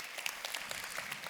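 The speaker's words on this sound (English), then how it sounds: "Yeah, you can applaud for that." Convention audience at a global company gathering applauding briefly, a soft, fairly distant patter of clapping hands with a few sharper claps standing out.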